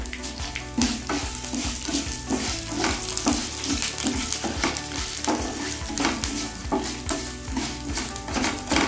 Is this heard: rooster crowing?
no